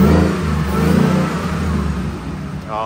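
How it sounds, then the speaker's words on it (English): A supercharged 2017 Ford F-150 Super Snake pickup revs up close with a deep, throaty roar that rises and falls, a faint high supercharger whine riding above the rumble. "Let me give it one more little rev just for some excitement."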